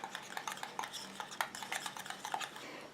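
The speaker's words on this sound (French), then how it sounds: "Et je mélange." A light green cosmetic eye-contour mixture is stirred in a small container, with a quick, rapid series of faint clinking and scraping taps from the utensil, fairly quiet and close.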